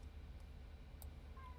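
A single short, faint meow from a cat rises near the end over a low, steady background hum, preceded by a couple of soft clicks.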